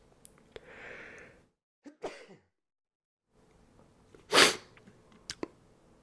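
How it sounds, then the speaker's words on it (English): A man in a quiet room lets out one loud, sudden sneeze close to the mic, preceded by soft breathy vocal sounds and a sharp intake of breath, with small clicks and sniffs trailing after. "I'm going to sneeze."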